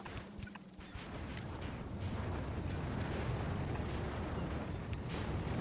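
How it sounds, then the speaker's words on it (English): Rockets launching in Factorio make a dense rumbling roar that builds after the first second and holds steady and loud, with a few faint clicks on top and no speech. "Lots of rockets going up."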